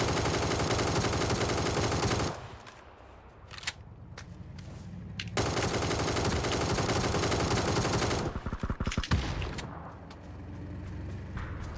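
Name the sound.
gunfire shooting at a tank in video game PUBG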